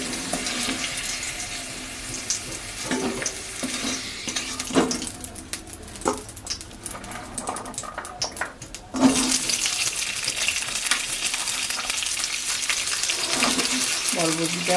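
Yardlong beans tossed into a hot pan after potatoes, with steady sizzling and frying hiss, occasional stirring clatter, and a sudden louder burst of sizzle partway through as the beans hit the oil.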